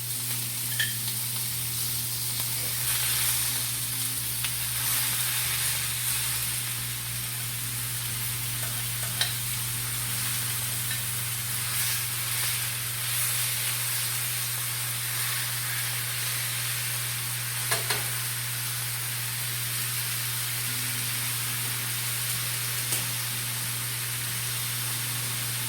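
Street taco meat sizzles steadily in a hot pan, a continuous broad frying hiss with a constant low hum beneath and faint clinks of stirring, no voices.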